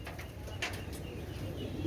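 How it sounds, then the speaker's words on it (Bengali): Pakistani royal teddy pigeons released in pairs, their wings flapping in a dense, continuous flutter close by over a steady background rumble, with no talking. "আমি দুটো পেয়ার একসঙ্গে ছেড়ে দেখাই আপনাদেরকে"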